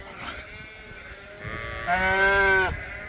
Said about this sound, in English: We're running sheep through chutes.